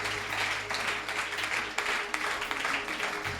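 A church congregation applauds steadily, a dense wash of clapping that swells and holds with a few sharper claps standing out.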